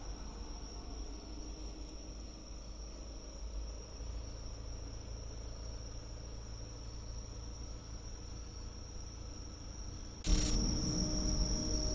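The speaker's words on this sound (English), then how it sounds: "crickets." Crickets chirp steadily outdoors at night, a continuous high, faint trilling chorus over low ambient hum, with a brief louder rustle near the end.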